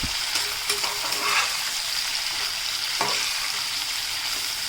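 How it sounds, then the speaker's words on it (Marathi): Chopped onions fry in hot oil for a prawn pulao, a dense continuous sizzle with a couple of soft stirring scrapes, close and steady throughout. "कांदा आपल्याला पूर्णपणे लालसर होईपर्यंत चांगलं शिजवून घ्यायचं आहे हे आपण तेलामध्ये चांगले शिजवून घेऊयात"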